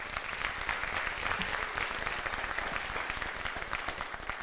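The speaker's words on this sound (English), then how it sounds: "Give them a round of applause." A school homecoming revue crowd applauds the jazz band, dense, continuous clapping from many people filling the room at close range, steady and unbroken with no voices over it.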